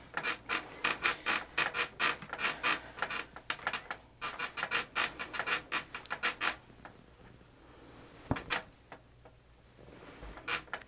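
Fabric rolled onto a Grace EZ3 quilting frame, with rapid mechanical ratcheting clicks and rubbing in a steady run that eases off, followed by a couple of isolated clunks.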